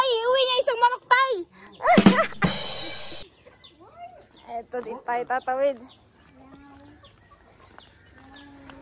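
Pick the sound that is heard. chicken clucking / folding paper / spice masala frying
chicken clucking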